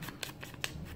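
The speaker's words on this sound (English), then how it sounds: "I cannot cut a straight line for anything." Scissors snipping paper for junk journaling, three or four quick close cuts in about a second, crisp and fairly quiet with no talk.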